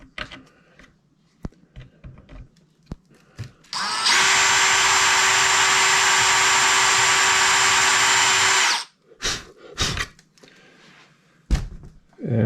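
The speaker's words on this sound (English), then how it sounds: "I would drill into each of the blocks, mounting blocks for the cowling" A power drill whines steadily for about five seconds, drilling holes into cowling mounting blocks of a model Hellcat fighter plane, preceded and followed by clicks, taps and handling noises.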